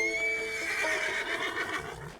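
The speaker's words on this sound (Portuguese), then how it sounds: "É um Paint Horse americano, um animal corajoso e resistente, ou seja, perfeito para um caçador." An American Paint Horse in a hunting video game gives a loud, close whinny that rises and wavers for about two seconds, with no other sounds around it.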